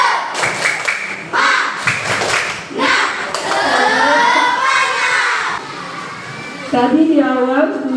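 A sixth-grade class of Indonesian children chant a clapping cheer loudly in unison, with sharp rhythmic claps punctuating the shouted words in a classroom.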